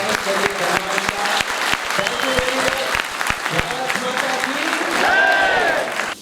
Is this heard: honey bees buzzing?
no